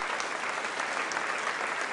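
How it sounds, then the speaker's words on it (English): An audience at a university graduation convocation claps in a brief, even burst of applause, steady and fairly loud, with no voices over it. "Give us a little applause."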